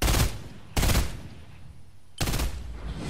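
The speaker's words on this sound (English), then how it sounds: "Oh, someone's getting shot at." Gunfire rings out in the Fortnite video game, three loud, sharp shots spread over a few seconds, each with a lingering tail, with no talking.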